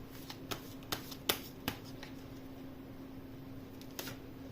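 Tarot cards being shuffled close by, a string of soft, sharp riffles and taps scattered irregularly across a quiet background.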